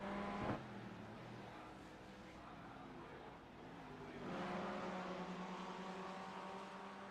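Race cars at Interlagos racing through the last corner toward the finish line, engines droning steadily at a distance, with a sharp knock early on and a louder, rising engine surge near the end.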